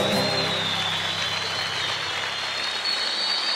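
A comedy show audience applauds steadily, a dense wash of clapping and cheering that stays loud throughout.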